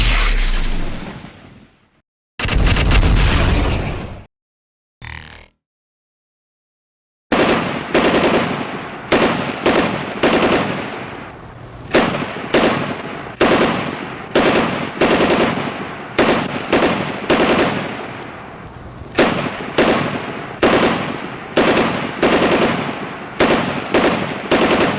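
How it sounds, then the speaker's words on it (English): BattleTech mechs fire PPCs and LRM-10 missile salvos in a tabletop battle, heard as loud bursts of rapid gunfire-like blasts and explosions. Short broken volleys open the sequence, then a long stretch of dense, repeated firing follows. "Griffin 2 fires the PPC and LRM-10 at the Atlas"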